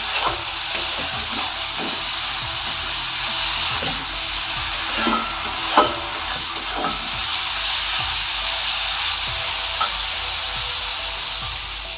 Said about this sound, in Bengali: মশলাটাকে আমি ভেজে নিচ্ছি পেঁয়াজ তেজপাতা ফোড়ন দিয়ে